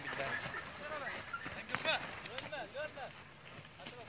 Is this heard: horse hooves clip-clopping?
yes